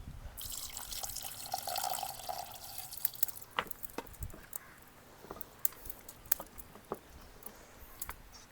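Raw chicken being washed clean with water outdoors among green fields gives faint trickling and dripping, then scattered sharp splashes and drops, with no talking.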